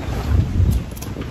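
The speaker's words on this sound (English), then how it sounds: "It's kind of windy today." Wind buffets the microphone outdoors with low rumbling gusts that swell and ease for just over a second, and no voices are heard.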